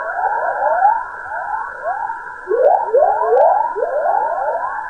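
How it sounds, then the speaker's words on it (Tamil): Eerie whistling tones sweeping in repeated descending and rising glides over a steady hiss and a constant high hum, like natural radio from space. "அந்த சத்தம் விசில் அடிக்கிற மாதிரி இருக்கும் அப்படின்னு சொல்கிறாங்க"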